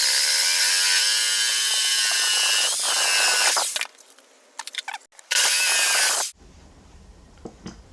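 A power drill cuts a 1 inch hole through wood: a loud, steady whining bore for about four seconds, some scattered clicks and knocks, then a second short burst of drilling.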